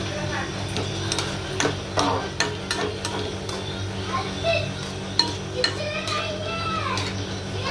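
Oil, green chillies, curry leaves, onion and tomato are stirred in a pan, with a soft sizzle and repeated metal spatula clinks and scrapes against the pan, close by, while someone talks over the cooking.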